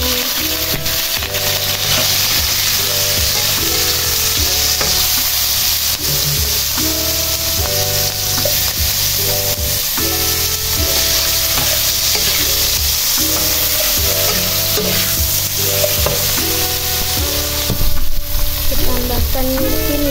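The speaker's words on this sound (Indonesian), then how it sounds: "Siapkan minyak lagi ya Bun buat menggoreng bumbunya" Spice paste frying and being stirred in hot oil for spicy scrambled eggs with basil, a steady loud sizzle with repeated scraping stirs of a utensil against the pan throughout.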